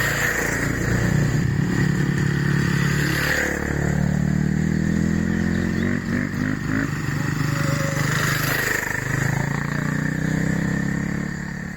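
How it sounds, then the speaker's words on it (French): Motorcycles ride past one after another, their engines rising and falling as each approaches and recedes, with gear-change rumble, clatter and scraping throughout and a voice briefly heard. "Sympa les motos."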